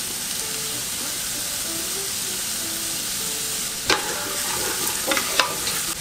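Courgettes sizzle and fry in oil for a ratatouille, a steady close hiss broken by a few sharp scrapes and stirring knocks toward the end, with no talk.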